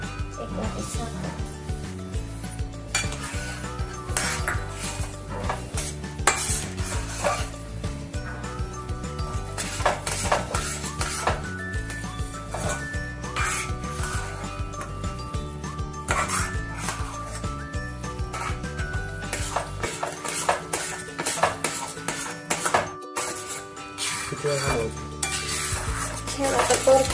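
A spoon stirring semolina sheera with sugar as it roasts in a pan, steady scraping and clinking against the metal over a soft sizzle, close and continuous.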